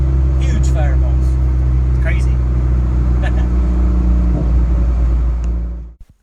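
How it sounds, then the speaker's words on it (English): A car fitted with a newly welded exhaust accelerates through the gears, its loud, steady engine drone rising with brief shifts before cutting off abruptly at the end. "Definitely sounds a lot better going through the gears."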